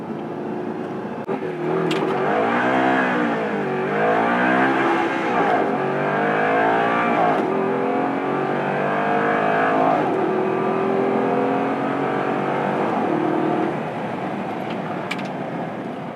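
A 2009 Audi R8 V8 supercar accelerates hard through corners, its engine note rising and falling in sweeping revs from inside the car, loud and sustained, easing off near the end.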